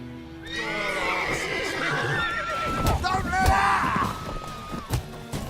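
Horse neighing in The Witcher 3 game, a drawn-out whinny followed by a second louder neigh, heard over background game sounds and character voices speaking.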